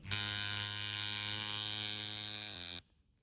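Coil tattoo machine running during adjustment, a loud close continuous electric buzz with a harsh raspy edge, slightly changing pitch near the end before stopping sharply, with no one talking.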